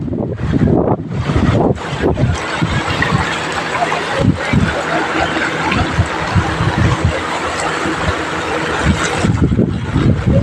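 A strong wind with heavy rain blows through the streets of Bhavnath. Gusts roar and buffet the microphone steadily throughout, with faint voices underneath.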